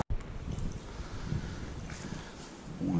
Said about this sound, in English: this wind is really getting up